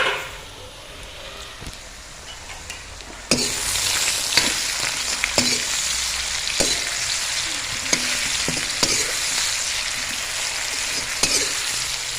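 Egg and kohlrabi fry in a pan with turmeric and salt, a steady loud sizzle jumping up partway through, broken by repeated scraping stirs of the spoon at irregular intervals.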